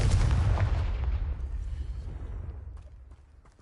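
A Confringo fire spell explodes in the video game Hogwarts Legacy: a loud, deep boom at the start that rumbles and slowly fades over a few seconds, with no talking.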